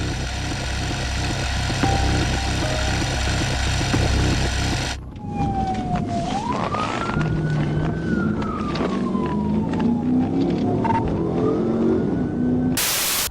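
Police siren wailing and rising during a high-speed chase with a white Dodge Challenger reaching 140 mph, loud rushing road and engine roar underneath, the siren sweeping up and down in long glides.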